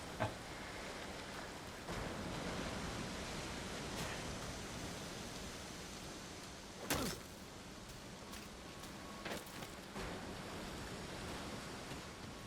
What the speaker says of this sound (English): This is what the waves were like